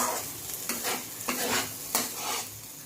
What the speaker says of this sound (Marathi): मसाला आपला छान असा परतलेला आहे. ग्रेव्हीला तेल सुटायला लागलेलं आहे बाजूने